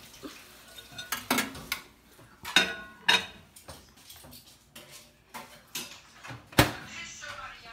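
A chocolate fondant cake is put into a microwave in a home kitchen, with scattered clinks of dishes and cutlery, a door being handled and sharp knocks at irregular intervals, along with some talk.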